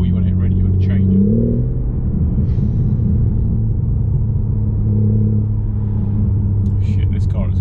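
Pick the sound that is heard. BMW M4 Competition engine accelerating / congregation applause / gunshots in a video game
BMW M4 Competition engine accelerating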